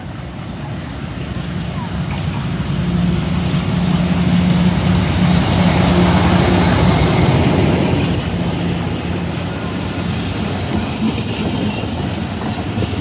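The Rahman Baba Express, locomotive 8312, passes through Badami Bagh station as a loud, steady rumble with rolling wheel clatter, swelling as the carriages go by and fading slightly at the end.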